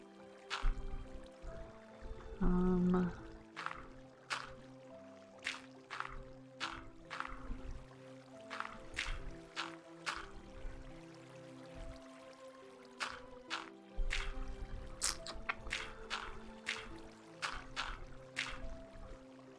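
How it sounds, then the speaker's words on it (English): Flowing water in modded Minecraft 1.12.2 (Enigmatica 2 pack) trickles and splashes as a steady run of short, close dripping and sloshing blips, with no talk. "Let's try to block this flowing water."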